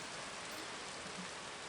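Heavy rain falls relentlessly on a town's cobbled market street, a dense, even hiss that stays steady and soft throughout.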